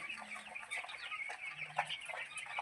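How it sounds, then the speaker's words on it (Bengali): A hen clucks softly in short, scattered bursts, close by, over faint background noise; no one speaks. "দেখুন কি সুন্দর মুরগিটা"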